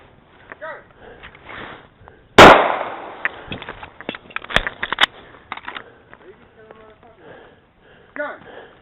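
Handgun shots striking steel pepper popper targets on a combat pistol course: one loud sharp crack stands out, followed by scattered fainter pops and clanks, with voices calling out intermittently.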